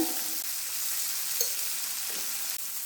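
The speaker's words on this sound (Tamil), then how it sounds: "இப்போ பாருங்கள், நல்லா வறுத்துட்டோம்" Spices including turmeric fry in a pan for plantain podimas, giving a soft, steady close sizzle with a few faint stirring touches.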